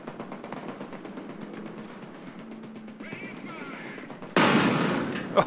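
Aircraft guns firing in the War Thunder flight game, a rapid rattling burst of repeated shots heard up close, followed by a loud sustained roar of engine and gunfire at the end.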